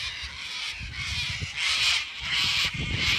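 Yellow-crested cockatoos at a horse yard on an autumn morning give loud, harsh, screeching calls in repeated bursts that overlap and swell, close by and without talk.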